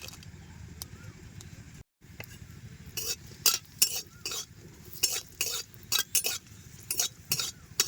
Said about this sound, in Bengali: তেলের মধ্যে দেবো শুকনো লঙ্কা